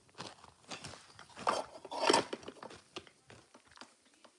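Close-up bites into crunchy food, a string of crisp, crackly crunches and chewing bursts with irregular rhythm, loud and alone without talking.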